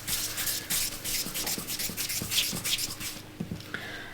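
Bread dough is rolled on a floured mat in a series of soft, rhythmic rubbing strokes, fairly quiet and close, with light bumps marking each pass.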